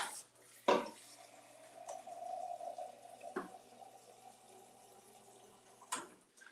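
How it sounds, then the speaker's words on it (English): Tap water runs into a container in a kitchen, a steady quiet hiss of filling broken by a few sharp knocks and clinks, with no speech. "So I'm gonna fill half with water"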